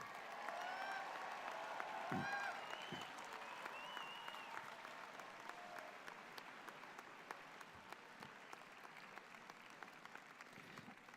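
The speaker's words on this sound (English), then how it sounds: "A big round of applause to all of our graduates." Graduation ceremony audience applauding the graduates, sustained clapping in a large hall, some voices early on, gradually thinning out.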